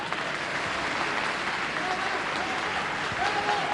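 Audience applauding steadily for a Neapolitan-song singer from Foggia making his debut on a televised music show, a dense continuous patter of clapping that fills the room.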